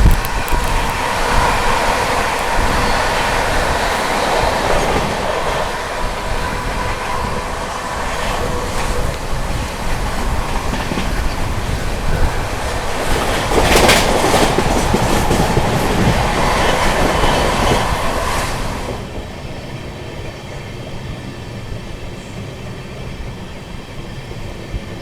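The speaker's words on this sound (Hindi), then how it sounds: "दोस्तों फ्लैट 130 की रफ्तार में हाथरस जंक्शन स्किप।" An Amrit Bharat Express from Delhi to Gaya runs flat out at 130 km/h past Hathras Junction. A loud, rushing rail roar carries clickety-clack and a brief squeal, then drops to a quieter hum near the end.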